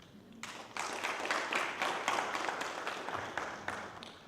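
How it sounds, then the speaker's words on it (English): An audience at a summit applauds the Vice Chancellor with dense, steady clapping from many hands that lasts about four seconds, with no one talking over it. "One more round of applause for our Vice Chancellor"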